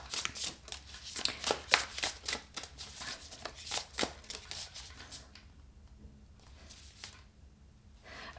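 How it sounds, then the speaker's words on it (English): Tarot cards are shuffled by hand in quick, crisp riffling bursts close to the mic, then they thin out into a few softer slides and taps as cards are drawn in a quiet room. "I want to pull some more cards"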